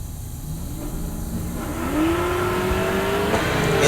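Naturally aspirated G8 drag racing car accelerating down the strip, its engine note climbing steadily in pitch and growing louder as it pulls away, with steady track noise beneath and no talk.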